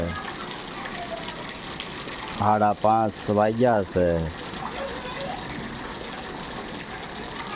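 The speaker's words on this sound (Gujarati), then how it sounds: "ગામ મેવાસા વરસાદ ચાલુ થઈ ગયો છે" Steady broadband hiss of monsoon rain falls throughout in Mevasa village, Gujarat, with someone briefly speaking over it in the middle.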